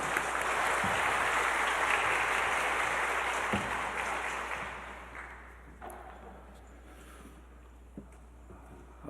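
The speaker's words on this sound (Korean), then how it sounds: "우리 박수로 인사하며 모시겠습니다" A church congregation claps to welcome the pastor at a Friday prayer meeting, loud sustained applause that fades out over several seconds.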